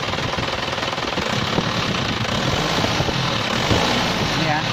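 An Isuzu Panther first-generation diesel engine being revved, a loud, rough, clattering drone that holds steady and swells slightly toward the end, heard up close.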